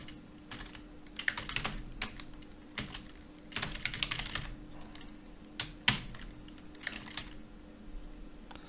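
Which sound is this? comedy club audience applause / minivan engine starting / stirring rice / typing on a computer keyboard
typing on a computer keyboard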